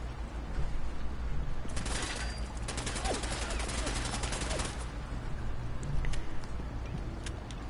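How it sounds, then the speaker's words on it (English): Companion Gage firing a gun in the Fallout 4 video game on PS4: a rapid run of shots mid-clip over a constant background rumble, with a few faint later cracks. "Gage is gonna shoot him."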